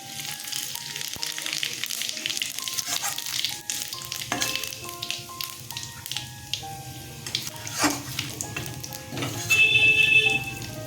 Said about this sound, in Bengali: এখানে দিচ্ছি জিরে আর মৌরি ফোড়ন